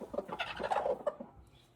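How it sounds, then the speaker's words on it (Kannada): A brooding hen clucks in a rural village home with mud-built walls, giving a run of close, fairly soft clucks and gurgling calls for under two seconds, with no voices. "ಕೋಳಿ ಕಾವು ಕೊಡ್ತಿದೆ ಅನ್ಸುತ್ತೆ, ಹೊರ ಅಂತೈತೆ"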